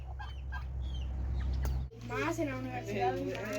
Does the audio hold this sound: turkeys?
yes